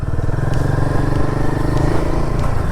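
A Royal Enfield Guerrilla 450 motorcycle rides along a rough, broken road, its engine a loud, steady, close throb with faint rattles and knocks from the uneven surface.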